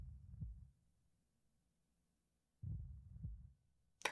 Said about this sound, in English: why is the heart beating?